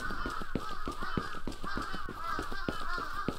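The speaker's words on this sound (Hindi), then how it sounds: "अबे इतने सारे कौए क्या कर रहे हैं यहाँ पे?" Crows caw in the Japanese horror video game Akai Onna, a dense flock of harsh calls that overlap and repeat rapidly without a pause, fairly loud and close, with no talking.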